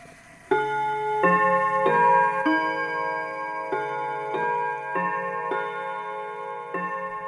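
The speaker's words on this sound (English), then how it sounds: "When the clock begins to chime" A clock chimes in a slow, ringing sequence of bell-like strikes, each tone sustaining and overlapping the next, loud and close with no voices.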